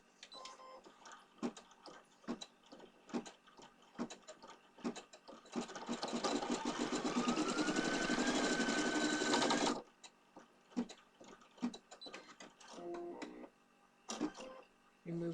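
An embroidery machine stitches design 29 on the left sock of a small Leprechaun's Pot O'Gold project. Scattered mechanical ticks and clicks come first, then a loud, steady whirring burst of rapid stitching lasts about four seconds, followed by more clicks and taps.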